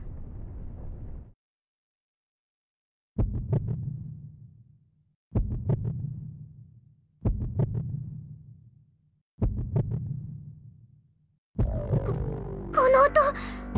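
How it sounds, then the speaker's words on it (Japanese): Deep heartbeat of the dark dragon in the game Tokyo Mirage Sessions ♯FE Encore, five slow heavy booming thuds spaced about two seconds apart with resonant decay, followed by a brief burst of game effects. "鼓動か。"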